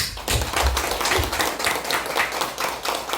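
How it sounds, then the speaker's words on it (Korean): Applause from a church congregation at a Sunday service, a steady wash of many hands clapping for a few seconds, fairly loud and close. "성교사님 박수 부탁합니다."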